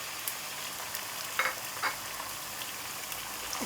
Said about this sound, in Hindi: गोश्त को फ्राई करते हुए मुझे 1-2 मिनट हो चुके हैं।